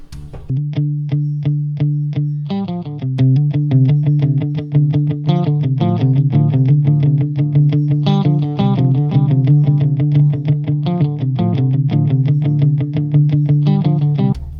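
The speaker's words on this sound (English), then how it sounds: "I can add, just a little bit of chorus here or something like that" Electric guitar playing a steady, bright riff through a chorus pedal, with a shimmering effect, sustained and loud with no voices.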